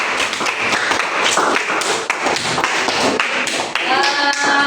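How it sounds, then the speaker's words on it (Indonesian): A classroom of students gives group 4 a round of applause: dense, steady hand clapping from many people, close and loud, with a voice briefly audible near the end. "terima kasih tepuk tangan untuk kelompok 4"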